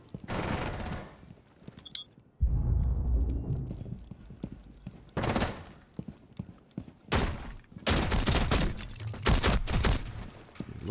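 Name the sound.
silenced gunfire in a console shooter video game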